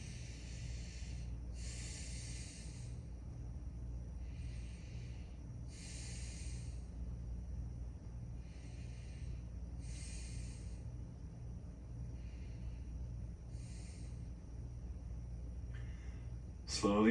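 Steady slow breathing with soft airy inhales and exhales at a relaxed pace during a seated yoga stretch at home, faint and close over a low background rumble.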